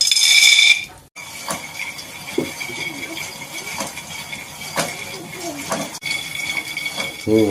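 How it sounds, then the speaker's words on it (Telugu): Peanuts dry-roasting without oil in a kadai on a stove, a steady scraping and clinking of metal against the pan as they are stirred, with a voice at times. "కడాయి పెట్టుకొని నూనె వేయకుండా పల్లీలు వేపుకుందాం"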